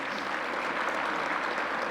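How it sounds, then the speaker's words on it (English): An audience at a business luncheon applauds in a dense, even burst of many hands clapping together, loud and sustained with no voices over it. "So give Gus a round of applause,"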